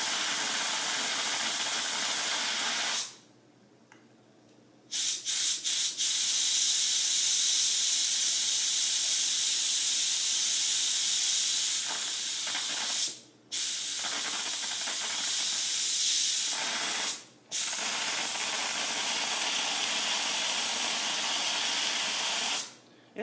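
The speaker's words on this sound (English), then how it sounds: "It's letting pressure out and some other stuff." A pressure cooker making chicken noodle soup vents steam in a loud, steady hiss that cuts out briefly a few times and then resumes at full force.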